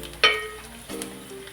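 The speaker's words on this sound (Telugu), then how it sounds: "చక్కగా ఇలాగా వేపేసుకోవాలి" Okra and fish curry base sizzling as it fries in a pan, a sharp hiss bursting up early and then settling into a softer crackle with a second gentle flare near the end.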